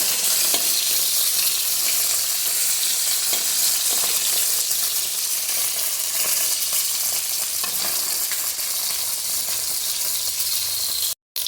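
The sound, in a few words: fish frying in oil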